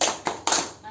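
Three quick, crisp hand claps in a fast even rhythm during the 'tepuk mantul' clapping chant for children, close and loud, with chanting voices mixed in.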